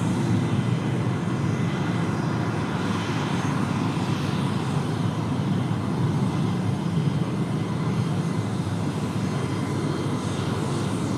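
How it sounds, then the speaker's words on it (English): A Chinese-registered Gulfstream jet comes down toward runway 16 left at Sydney Airport, its engines giving a steady, broad roar that stays fairly loud and constant throughout, with no voices. "Chinese registered Gulfstream heading down to runway 16 left."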